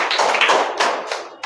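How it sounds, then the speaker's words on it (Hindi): A classroom of students claps for a child during an English lesson, giving a short burst of light, scattered hand claps at moderate volume that fade within about a second and a half. "बालक के लिए तालियां हो जाएं।"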